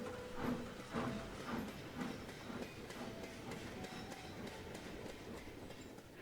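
Faint train in an animated railway-engines show: rhythmic clickety-clack of wheels over rail joints, steady and somewhat distant, running throughout with no talk.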